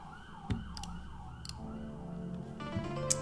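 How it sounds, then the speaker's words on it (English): An ambulance or police siren passes outside, its wailing tone rising and falling in a steady cycle at a moderate distance, with a few sharp clicks and knocks nearby. "Apologies for the ambulance or police,"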